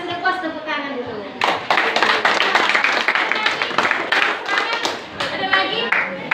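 A class of students clapping hands in a classroom, a lively burst of many close claps with an uneven rhythm, preceded by a teacher talking and with voices mixed in.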